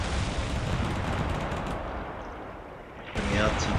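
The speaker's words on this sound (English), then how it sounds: "Artillery's still coming down." Artillery barrage in a Cold War tank-battle video game: a dense, continuous roar of distant shell impacts and rumbling explosions, with a louder burst near the end.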